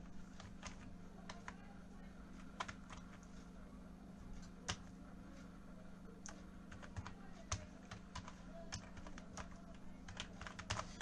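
A computer keyboard is typed on to enter a browser search, giving scattered quiet key clicks in irregular bursts over a low steady background hum.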